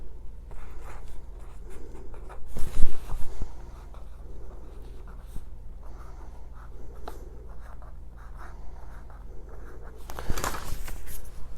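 Pen or pencil writing on paper, a steady soft scratching held close over a low background hum, with a couple of louder rustles.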